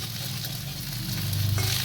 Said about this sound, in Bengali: অল্প তেলে মাছ ভাজা